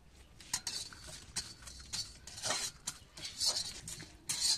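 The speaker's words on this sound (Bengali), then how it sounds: "এগুলো আমি একটু ড্রাই রোস্ট করে নেব" A spoon scrapes and clinks against a hot wok as black pepper and whole spices are dry roasted, giving quiet, irregular stirring strokes and metallic taps.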